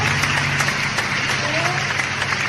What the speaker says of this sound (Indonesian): Ayo tepuk tangan dulu untuk Ibu Ani dari kelompok 1